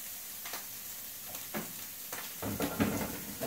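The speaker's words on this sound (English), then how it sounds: "So I have to wait for that to stop sizzling." Quiet, steady sizzling of food frying in a pan on a gas stove while making pasta carbonara, with a few soft clunks and stirring scrapes toward the end.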